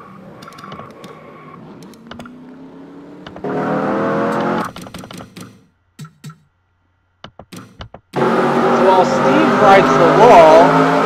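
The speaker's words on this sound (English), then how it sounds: "Rides the wall, Paul Swanson catches some air." Indycar race car in a racing video game scraping along the wall, with roaring engine bursts and gaps as commentators talk over the action.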